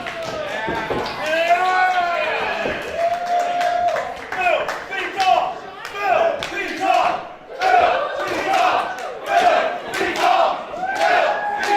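A packed crowd at a Prestige Wrestling pro wrestling event shouts and chants loudly and continuously in rhythmic bursts, with claps and a voice rising above the din.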